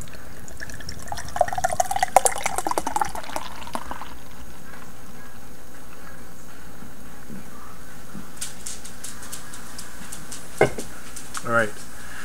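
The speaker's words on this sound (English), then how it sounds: "So, let's open her up and give her a pour, see what we think." Magners pear cider can cracked open with a sharp hiss, then poured into a glass with fizzing, gurgling liquid, followed later by a couple of brief clinks and pours; someone talks quietly in the background.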